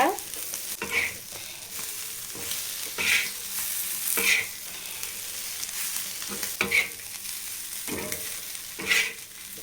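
Prawns fry with green chillies and curry leaves in a pan, a steady sizzle with periodic louder bursts as they are stirred, close and with no talk.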